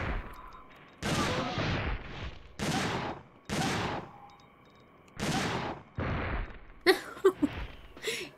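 Gunfire aimed at dinosaur enemies in the Dino Crisis 2 action game: loud separate blasts about a second apart with short gaps between them, then quicker sharp cracks near the end.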